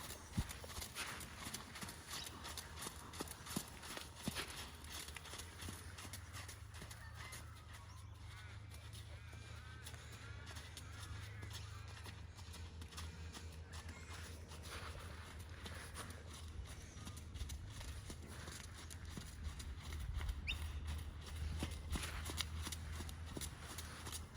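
A horse canters in an arena, its hoofbeats a faint, steady rhythmic thudding under a low background rumble.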